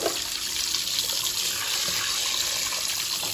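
Water gushes strongly from a washroom tap at a Homebase store in a steady, loud hissing stream with no pauses.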